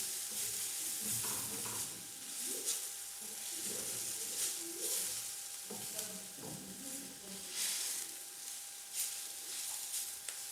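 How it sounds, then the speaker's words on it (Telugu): Grated carrot frying in a pan for a carrot and egg curry, giving a faint, steady sizzle broken by scraping stirs; a few low murmurs sit underneath. "ఈ తురుముని మరొక 2 నిమిషాలు ఫ్రై చేసుకుందాం."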